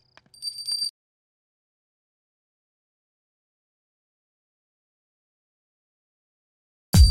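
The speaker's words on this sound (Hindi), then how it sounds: "श्यामला, क्या घंटी फिर से बजाऊं? एक बार बजाओ।" A small puja bell is rung in a quick shimmering burst of bright metallic ringing that stops after about a second, followed by silence.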